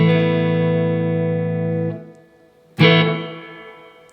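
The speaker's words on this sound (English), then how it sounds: "this is the spring reverb in the amp" Electric guitar played through a Laney amp's spring reverb: a sustained chord rings loud and decays with a splashy reverb tail, then after a short gap a second chord is struck and trails off.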